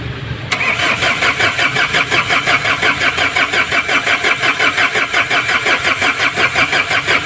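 A newly rebuilt engine turns over and catches, then runs in a steady, loud, pulsing idle with a regular throbbing rhythm close by.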